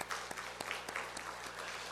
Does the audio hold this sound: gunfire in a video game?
no